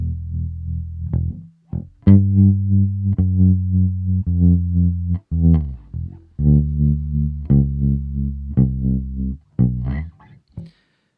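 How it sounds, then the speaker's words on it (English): An electric guitar plays sustained notes and chords through a crossover pedal, with tremolo applied only to the treble while the bass stays solid, giving a pulsing shimmer on top over a steady low end, loud and close with no speech. "So if we just restrict the tremolo to the top end, then we still have that solid bass,"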